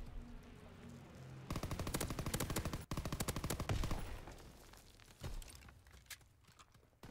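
A PPSH submachine gun fires in Call of Duty Blackout in long, rapid full-auto bursts, loud and close, with brief pauses between strings of shots.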